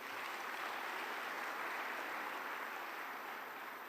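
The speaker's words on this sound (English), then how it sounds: "I want us to give them a round of applause." Audience applause at the Commonwealth Youth Forum opening ceremony in Kigali, a steady broadband wash of clapping that stays loud and even for the whole stretch, with no voices over it.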